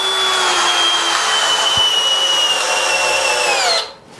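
A KIMO cordless drill driver with a 7/16 socket drives into wood, whining loud and close at a steady pitch. A sharp crack sounds midway, then the motor winds down and stops near the end.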